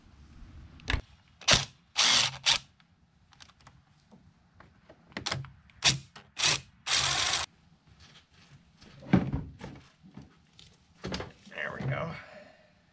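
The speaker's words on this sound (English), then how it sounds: "We'll loosen those up, pull that off, and take those four bolts out to slide this over so we'll have access to that bolt." A ratchet works loose the throttle body bolts on a Nissan Rogue, giving short bursts of clicking and whirring, several separate runs spread across the clip, with someone talking in between.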